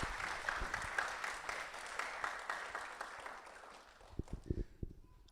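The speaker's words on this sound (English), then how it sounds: "So please, a round of applause and appreciation for each and every one of you and Swami." Audience applause at a Guru Purnima celebration, a sustained patter of many hands that gradually thins out, with a few louder isolated claps and knocks near the end.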